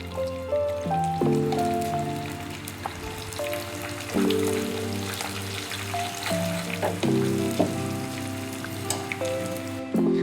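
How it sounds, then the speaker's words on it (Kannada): Asafoetida and spices splutter in hot oil for tempering a gojju avalakki, a loud, continuous close-up sizzle with dense crackles and pops throughout, and faint melodic tones running underneath. "ಇಂಗು ತಡ್ರಿ, ಚಟಪಟ ಅನ್ನ ತೋರಿಸ್ತೀನಿ."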